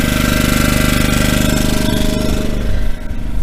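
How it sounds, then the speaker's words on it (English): A portable generator gives a steady, loud engine drone with a rhythmic mechanical chug throughout, dipping briefly near the end before resuming, at a chilly-day campsite on BLM land in New Mexico. "I do apologize for the generator running"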